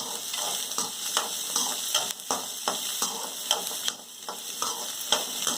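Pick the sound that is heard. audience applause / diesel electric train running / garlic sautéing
garlic sautéing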